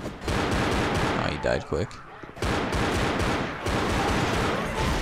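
Rapid gunfire in Left 4 Dead rattles loud and close almost without pause, broken by a short gap, while a voice speaks briefly over it.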